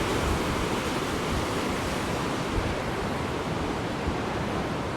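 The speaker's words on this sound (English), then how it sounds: "Just wait for the next big wave to come through. Oh wow, look at the force of that water." Loud, continuous roar of heavy ocean surf on Orkney, waves crashing and churning close by, with some wind buffeting.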